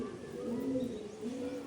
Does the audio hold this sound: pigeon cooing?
yes